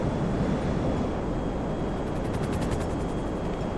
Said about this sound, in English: Let's try to shoot down on these police choppers.